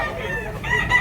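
A rooster crows at a busy early-morning chicken market in Tabunok, Cebu, its call faint and somewhat distant under a steady crowd murmur, with a brief louder swell near the end.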